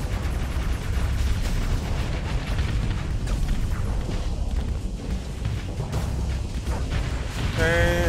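Heavy explosions boom and rumble continuously through a space battle in Starsector, loud and dense with overlapping blasts and a brief tonal warble near the end.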